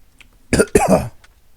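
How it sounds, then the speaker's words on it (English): A person coughs in a quick pair of rough, throaty bursts, close and fairly loud, with near silence on either side. "I just coughed."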